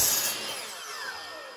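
A saw cuts a scrap piece of wooden interior window trim square: one loud, close rasping cut that starts harsh and bright, then gradually eases off as it finishes.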